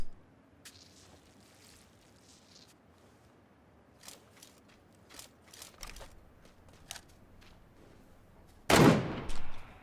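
Scattered gunshots in the video game PUBG, mostly distant and faint single cracks, ending with a loud close burst of fire near the end.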